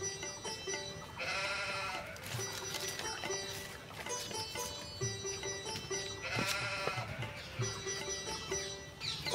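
A goat bleats several times in faint, wavering cries spaced a second or two apart, each a drawn-out nasal call over quiet background noise.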